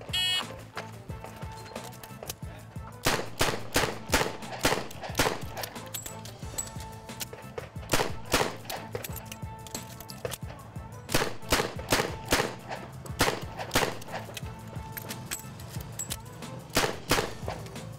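Pistol shots fired rapidly in bursts during a timed shooting competition stage, sharp cracks in quick succession with short pauses between strings, fairly close and loud over a low background hum.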